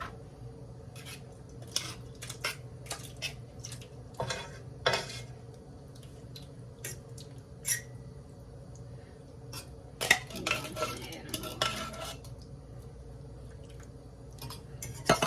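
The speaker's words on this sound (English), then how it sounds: "we're gonna add in some diced tomatoes" Diced tomatoes go into a jambalaya pasta sauce in a pan and get stirred, giving quiet, scattered clinks and scrapes of a utensil with soft wet drips between them.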